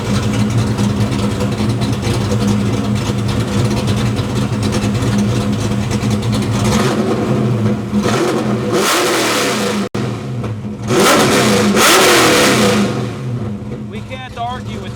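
A Foxbody Mustang engine idles with a rough, loud burble, then is blipped in several sharp revs as throttle response is tested, the bursts rising and falling close by.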